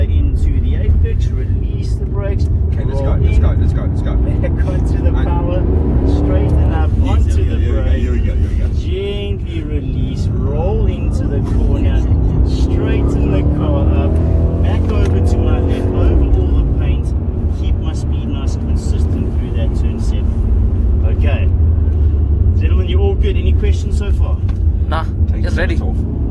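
A Mercedes-AMG car on the power around Zwartkops Raceway, its engine droning and rising in pitch as it accelerates, heard from inside under an instructor's talk.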